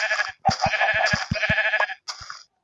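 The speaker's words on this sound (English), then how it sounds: "A whole bunch of sheep." A Minecraft sheep bleats several times in short, wavering calls with brief pauses, clear and close, over faint low thumps.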